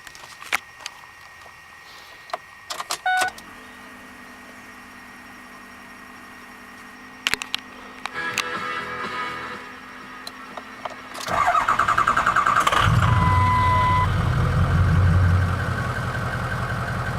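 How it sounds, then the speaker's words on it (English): Ford 6.0 Powerstroke diesel truck with a newly installed turbo cold starting, a few quiet clicks and a cranking burst before the engine catches and settles into a loud, steady idle. "it's the first time starting the truck today, so kind of be like a cold start."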